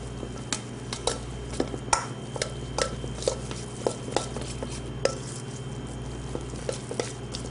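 A spoon works through a bowl of shrimp filling with chopped chives, egg yolk, salt and pepper, giving repeated close, wet clicks and scrapes in an irregular rhythm over a steady low hum.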